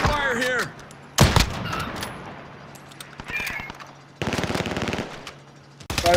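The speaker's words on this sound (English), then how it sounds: "Taking fire here." Gunfire in Call of Duty Warzone on Rebirth Island: several sharp rapid bursts of automatic fire, loud and close, separated by quieter gaps, with a voice speaking briefly between them.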